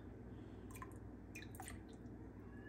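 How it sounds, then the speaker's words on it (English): A few drops of whiskey falling into a bottle of iron gall ink, heard as a handful of small, soft drips and splashes, close but faint over a steady low hum, with no talking. "I feel like this is wasteful of the whiskey, but whatever. We'll add, it says a few drops."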